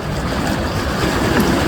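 A powerful pump drives churning waves against rocks in an aquarium-style setup, producing a steady, loud wash of turbulent water with no pauses.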